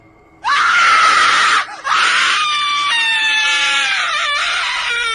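A woman screams loudly and shrilly, a sustained high-pitched cry that breaks off briefly, then continues as a long wavering scream.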